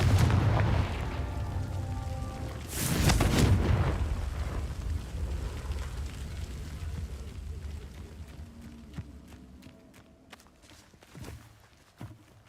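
A Confringo spell explosion in the video game Hogwarts Legacy, a deep, booming blast near the start with a rumbling tail that fades, followed by lighter scattered impacts.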